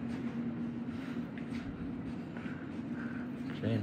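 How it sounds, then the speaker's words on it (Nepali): Train noise at a station on a summer trip near a London village: a steady low rumble and hum with a faint tonal whine, and a brief squeal and rising tone near the end, under light background sound. "ट्रेन हो। अब हामी ट्रेनभित्र जान्छौँ।"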